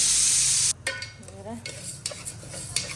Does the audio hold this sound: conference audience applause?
no